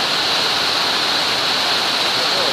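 Heavy monsoon rain in Valsad, Gujarat, a dense steady roar of downpour that fills the whole moment loud and unbroken.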